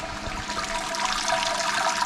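Wort and sparge water draining out of an Anvil Foundry 10.5 all-in-one homebrew system while brewing a lager, a steady rushing, gurgling flow that runs continuously and close by with no talk.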